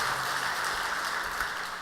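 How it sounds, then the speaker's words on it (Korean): Church congregation applauding after a sermon at a Korean Full Gospel evening worship service, a steady even wash of clapping lasting the whole stretch, moderately loud with no voices over it. "한번 박수 한번 하십시다"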